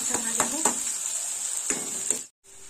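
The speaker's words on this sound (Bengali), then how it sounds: "পেঁয়াজটা ভাজা হোক।" Onions frying in hot oil give a steady close sizzle, with a few sharp spatula stirs and scrapes against the pan before the sound cuts out briefly near the end.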